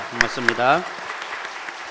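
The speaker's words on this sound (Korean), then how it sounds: "우리 힘찬 박수로 한번 격려하도록 하겠습니다." A church congregation at a Sunday worship service breaks into applause just after a brief spoken thank-you, a short, soft burst of clapping following the voice.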